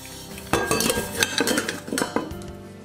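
Metal parts clatter and clink as they are lifted out of a stainless steel Instant Pot Duo Plus 6-quart electric pressure cooker, a run of close, loud knocks and rattles with no talk.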